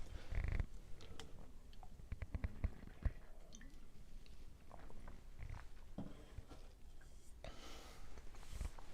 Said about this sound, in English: Get into a drink of water here.